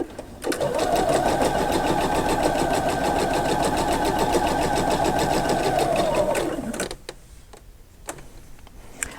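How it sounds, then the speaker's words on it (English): Sewing machine stitching a seam to join quilt binding strips, a steady, loud, fast mechanical whir running for about six seconds, then stopping, followed by faint handling noises. "You can just sew your very next seam."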